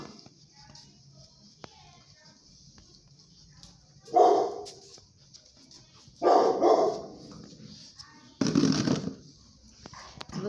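Puppies that have just been given chew bones bark in three short, loud bursts spaced a couple of seconds apart, with quiet stretches of faint shuffling between them.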